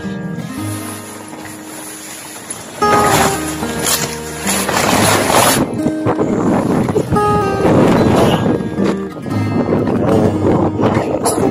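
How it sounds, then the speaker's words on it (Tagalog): Strong typhoon wind buffets the microphone in loud, gusty roars on a high mountain highway, with a steadier hum of passing traffic beneath it. "Hangin."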